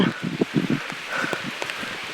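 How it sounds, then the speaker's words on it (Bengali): Steady rain patters and hisses through forest foliage on a hilltop trail in Sitakunda, with soft irregular drops and rustling nearby. "এর মধ্যে বৃষ্টি হচ্ছে"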